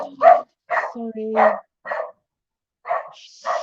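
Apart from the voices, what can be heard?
dog barking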